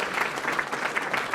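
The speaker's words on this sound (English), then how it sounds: "So round of applause for all those folks, prior Winslow Award winners." An audience at an award dinner gives a dense burst of applause close by, with many hands clapping at once and no voices over it.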